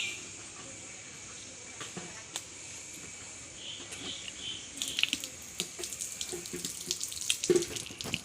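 Tap water runs steadily into a sink for hand washing in a home, a continuous close hiss that grows louder and more splashy partway through, with faint clinks and small knocks.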